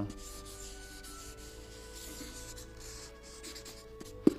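Pencil scratches and rubs steadily across paper while a fashion figure is sketched quickly, a soft continuous drawing sound close by, ending with a brief sharper tap.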